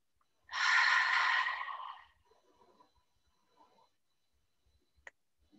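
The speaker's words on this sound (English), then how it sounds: "deep breath in with us." One deep breath is drawn in close by, a soft airy rush lasting about a second and a half, followed by quiet with faint small noises and a brief tick.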